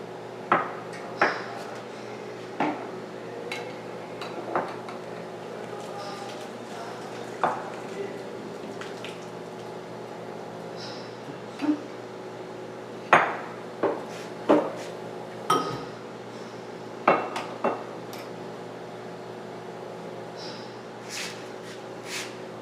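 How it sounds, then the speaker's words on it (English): Pans and dishes clatter in a home kitchen as cooked carrots are drained into a bowl, with scattered sharp clinks and knocks spread through the stretch over a low steady background hum. "So we're going to drain the carrots, and for the time being, we're going to stick them in this bowl."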